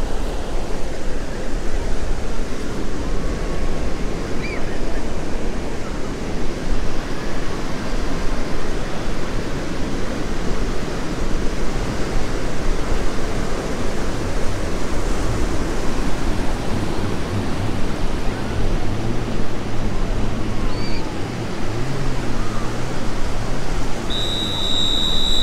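Ocean surf rolls in at a busy beach near Sydney, a dense, continuous wash of breaking waves heard up close and loud for the whole stretch, with faint chirps and a low hum briefly showing near the end.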